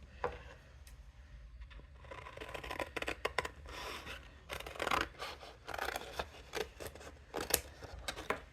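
Scissors snip and rasp through paper, cutting out a shape for decorating a craft kit bucket. The cuts come in a close, quiet, irregular series with soft rustling and no talking.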